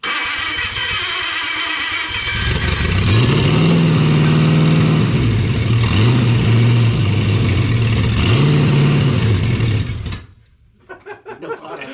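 A 1951 Pontiac Chieftain engine running loud and close, rising into repeated revs that swell and fall for several seconds before cutting off abruptly into near silence.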